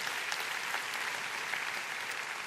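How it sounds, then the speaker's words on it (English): Rotary club audience in Melbourne gives a brief, quiet round of applause for a polio campaigner, a soft steady wash of distant clapping. "let's give him a round of applause"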